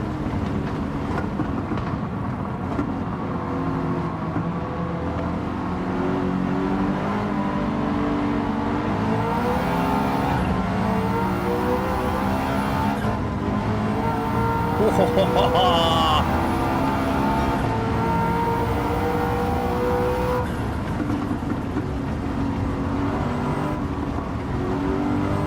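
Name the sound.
4-litre twin-turbo V8 engine revving, racing video game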